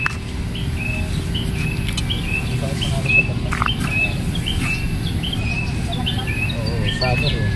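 Small birds chirp and tweet intermittently outdoors on a quiet summer day, faint repeated calls over a steady low background hum, with no one talking.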